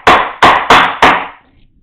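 A wood chisel cutting a mortise gives four sharp, evenly spaced strikes, loud and close, each with a short decay, and no one speaks.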